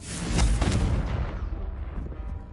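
A Confringo blasting spell goes off in Hogwarts Legacy on PS5 as one loud, booming explosion with a deep rumble that fades over a couple of seconds.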